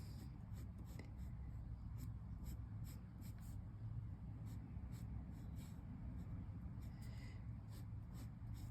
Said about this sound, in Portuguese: Agora, vamos, marcamos e desenhar a nossa segunda elipse.